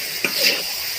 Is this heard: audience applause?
no